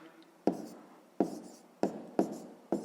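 Numbers written by hand during a maths lesson: five separate sharp taps of pen or chalk, each followed by a short scratchy stroke, close and spaced about half a second apart, with no talking.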